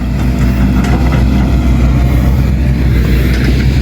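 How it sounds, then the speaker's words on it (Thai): Steady loud diesel engine rumble from an excavator leveling filled land on a plot in Suphan Buri, a continuous low drone with no breaks. "ตอนนี้กำลังให้แมคโครมา ดำเนินการปรับพื้นที่ให้เรียบนะครับ"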